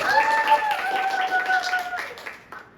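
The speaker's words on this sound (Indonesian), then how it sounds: "Boleh tepuk tangan dulu buat bintang tamu." Audience clapping for guests on a leadership podcast, a steady patter of hands lasting a few seconds before fading, with a sustained tone and some voices running underneath.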